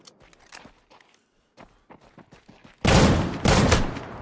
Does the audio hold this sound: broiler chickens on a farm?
no